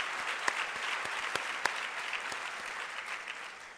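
Audience applause in a hotel ballroom at a charity luncheon, a steady wash of many hands clapping with a few sharper nearby claps standing out, heard from a distance and fairly soft.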